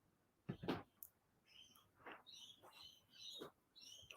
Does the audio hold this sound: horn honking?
no